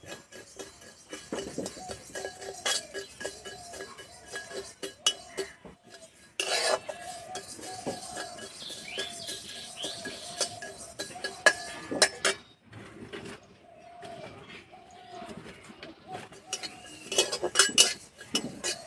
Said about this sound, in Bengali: মৌরি, কালো জিরা, 2টো শুকনো লঙ্কা ভেজে নেব